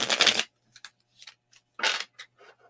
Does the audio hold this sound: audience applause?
no